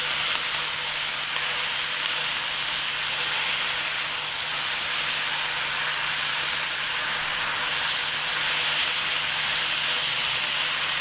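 Mongolian beef stir fry sizzles in a pan as a loud, unbroken hiss that holds steady and close throughout.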